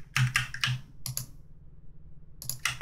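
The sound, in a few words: typing a keyboard shortcut on a computer keyboard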